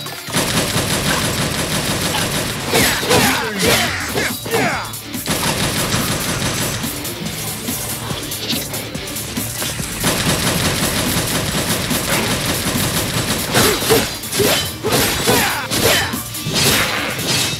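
Weapons fire in Devil May Cry Mobile, with guns shooting enemies on the ground and in the air. Dense rapid shots, crashes and whooshes rattle on almost without a break, loud and close, with no voices.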